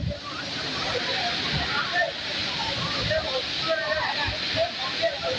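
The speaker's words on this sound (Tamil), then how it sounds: "திருப்பூர் குடிநீர் திட்ட குழாயில் உடைப்பு ஏற்பட்டு தண்ணீர் வீணாக வெளியேறி வருகிறது" Water gushes loudly and continuously from a burst Tiruppur drinking-water scheme pipeline, a steady rushing spray like a waterfall with occasional heavier splashes.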